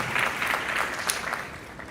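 A school board meeting audience gives student presenters a round of applause, moderate clapping from a room full of people that holds steady, then thins slightly toward the end.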